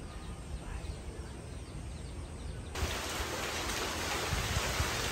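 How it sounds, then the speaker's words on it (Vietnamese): Rain falls steadily as a dense, even hiss, growing noticeably heavier and louder partway through, with no one speaking. "Trời lại mưa rồi."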